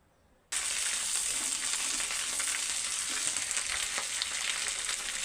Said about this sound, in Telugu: సో ఈ విధంగా లో ఫ్లేమ్లోనే మొత్తం అంతా కూడా ఫ్రై చేసుకోవాలండి.